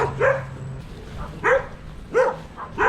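Dogs bark in three or four separate sharp yaps with a whimpering edge, spaced about a second apart, moderately close outdoors on a beach hike in Saipan, with no voices.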